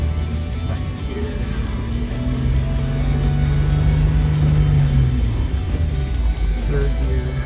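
Off-road vehicle engine crawling along the rocky Telegraph Line Trail in Arizona in second gear, a steady low rumble that swells slightly midway, with no talk.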